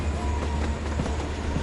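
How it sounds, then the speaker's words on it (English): Train passing in the video game Life is Strange: Before the Storm, a dense, steady rumble of rolling wheels and wagons heard close and loud throughout, with no talk over it. "I do not like that train."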